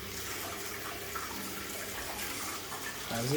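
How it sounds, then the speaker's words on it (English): A toilet is flushed during a plumbing job on a blocked, leaking drain trap, giving a steady rushing gush of water that holds for a few seconds and swells slightly near the end. "Let it flush. That'll flush."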